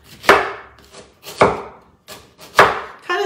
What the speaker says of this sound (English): So we're gonna cut this really thin.